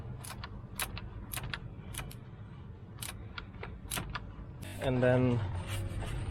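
A spanner at work during an engine oil change on a Vauxhall Zafira gives a run of sharp metallic clinks and taps at irregular spacing, close by. A voice speaks briefly near the end.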